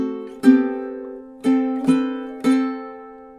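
Ukulele fingerstyle melody in thirds stepping upward, four clean plucked double-stops at a steady pace, each ringing briefly then fading, close and alone with no voice.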